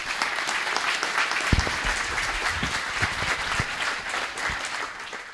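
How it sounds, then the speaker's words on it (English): Audience at a World War II lecture breaks into steady applause, dense clapping filling the room at a fairly even level from start to finish, with no voices over it. "would you give her a round of applause"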